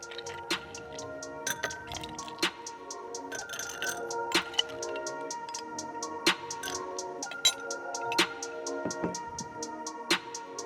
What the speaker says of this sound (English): This drink is best enjoyed chilled, so I'm going to put some ice cubes in there.